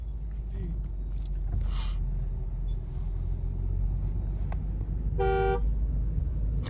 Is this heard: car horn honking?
yes